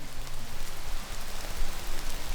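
Steady rain falling outdoors, a dense continuous hiss with scattered drop patter throughout, fairly loud with no voices.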